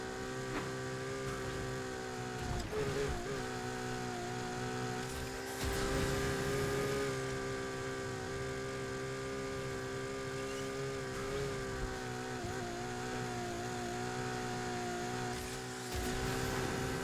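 Porsche twin-turbo engine in NFS Heat holding a steady high drone at speed, with a couple of brief rev changes and gear shifts, continuous and fairly faint.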